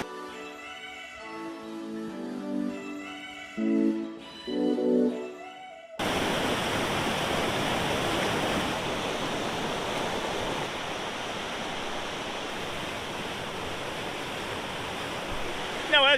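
River swollen and raging after a flood, a loud, broad, steady rush of water that starts abruptly and continues without a break, after a short stretch of other sound.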